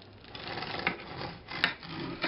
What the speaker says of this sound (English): I'm going to just cut the bread